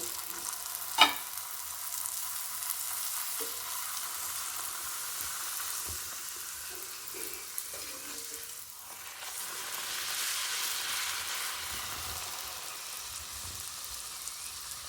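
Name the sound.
puri frying in oil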